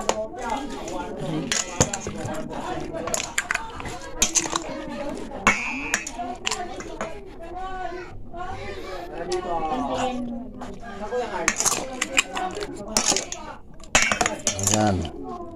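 A spoon clinks and scrapes against a bowl while stirring a pork chop barbecue sauce mixture with brown sugar, in irregular taps and rattles close up, under steady talking.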